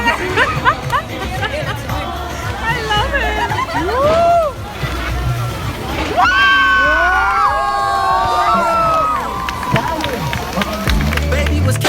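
A crowd at a college fest cheers, whoops and chatters loudly and continuously, with excited shouts and high voices rising above a dense babble throughout.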